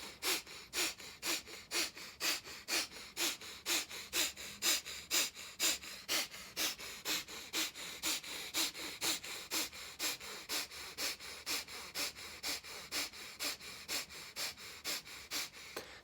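Rapid rhythmic breathing, a quick forceful breathing exercise with sharp sniff-like breaths repeating evenly about twice per second, close and alone for over fifteen seconds.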